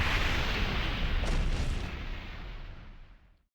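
An explosive tag detonates underwater in the Naruto X Boruto Ultimate Ninja Storm Connections fighting game. A loud, roaring blast rumbles steadily for about three seconds, then fades out to silence.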